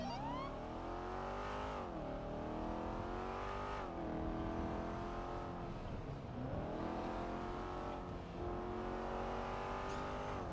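A supercar engine in a video game drives and revs, its tone repeatedly climbing and then dropping as it shifts gears, loud and steady, with no voices.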